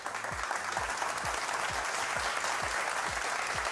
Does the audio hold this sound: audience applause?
yes